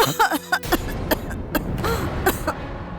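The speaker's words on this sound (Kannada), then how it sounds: "ಇನ್ನು ಕೆಮ್ಮು ನಿಂತಿಲ್ವಾ ನಿಂಗೆ?" A few short, harsh coughs close by, with a voice and bits of background noise around them.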